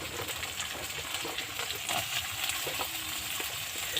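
Spring onion stalks frying with chicken, garlic and onion in a pan give a steady, continuous sizzle and crackle, fairly close and even in loudness, with no voices.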